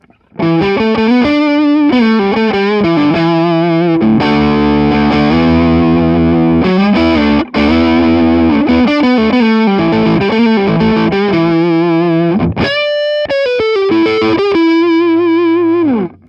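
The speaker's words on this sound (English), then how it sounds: "And now let's move to some crunch tones. Here's my neck pickup." An Epiphone Slash Les Paul Standard Appetite electric guitar plays a crunchy, overdriven tone through the neck pickup, loud and continuous chords and riffs with sustained notes, played alone without talk.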